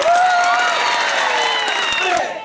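Crowd at a Hindu protest rally in Dhotre, a steady wash of applause and cheering throughout with a loud voice ringing over it, fading at the end.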